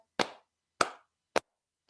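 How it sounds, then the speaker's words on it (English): Three separate hand sounds during a children's storytime, two softer slaps on the lap followed by a sharp clap, evenly spaced in a slow rhythm with quiet gaps between. "we're going to put our hands down on our lap and bring them up to clap"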